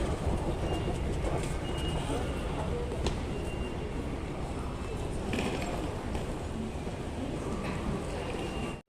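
A subway train rumbles steadily through a Beijing subway station, with a continuous rolling roar and faint rail squeals, close and loud, before cutting off abruptly at the end.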